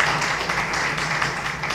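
Brief, moderately loud audience applause at a twentieth-anniversary celebration of the ANAPI agency, steady dense clapping throughout.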